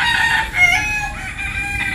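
Rooster of a Texas breed crowing on a farm, a drawn-out, moderately loud call lasting about two seconds with no voices over it.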